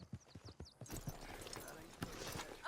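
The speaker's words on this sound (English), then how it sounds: "My horse collapsed." Horse hooves clip-clop rhythmically in a Western video game, close and distinct at first, then blending into a busier mix of sounds, with voices speaking over it.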